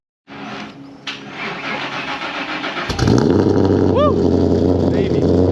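A Shelby Super Snake of about 1,900 horsepower cranks and fires at about three seconds, then settles into a loud, heavy, rumbling idle close by, with faint background sound before the start.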